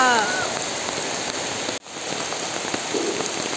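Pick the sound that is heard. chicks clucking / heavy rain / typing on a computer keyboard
heavy rain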